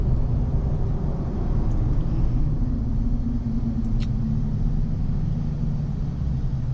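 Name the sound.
2024 Chevy Silverado ZR2 diesel braking test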